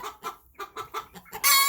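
Chickens raised by a duck cluck in a series of short, close clucks in an uneven rhythm, ending with a louder, higher squawk.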